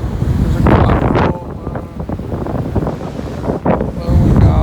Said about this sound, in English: It's really windy, like unmanageably windy.